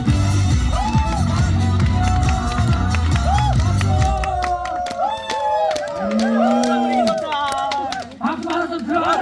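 An audience at an outdoor traditional performance at a Korean culture theme park in Andong claps and cheers after music fades, with whoops and voices calling out over the applause.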